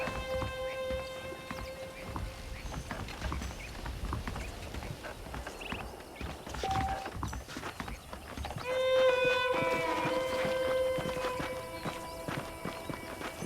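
Horse hooves clip-clop at a walking pace in the Xbox 360 western game Red Dead Redemption, a steady rhythm under ambient music and background game sounds, with a brief whinny-like tone partway through.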